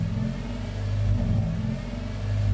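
A Honda engine idles unevenly, its low rumble rising and falling as the idle bounces, steady and close with no talking.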